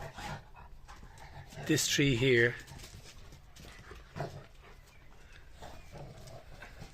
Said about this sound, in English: dogs are getting excited